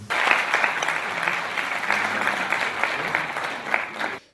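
National Assembly deputies applauding in a parliamentary chamber to adopt a resolution, a loud sustained burst of many hands clapping that stops abruptly at the end.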